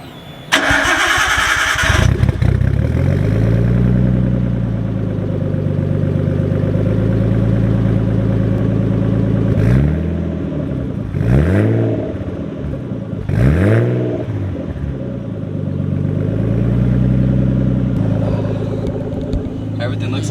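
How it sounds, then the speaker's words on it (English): A Nissan R32 Skyline fitted with an RB25 turbo engine cranks briefly and fires, then settles into a loud, steady idle close by. Several sharp throttle blips follow, each rising and falling quickly. "I'm about to start the car"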